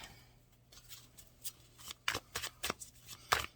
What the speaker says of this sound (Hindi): मैं एक कार्ड और निकालूंगी